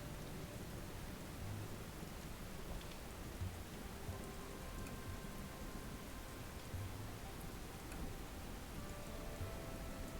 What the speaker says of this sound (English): That is heavy rain.